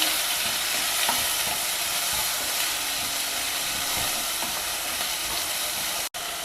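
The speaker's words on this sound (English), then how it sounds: "Fry all these vegetables together." Chopped onion, capsicum, carrot and tomato fry together in a pan with a loud, steady sizzle and hiss and occasional stirring scrapes, broken by a brief cut near the end; no one speaks.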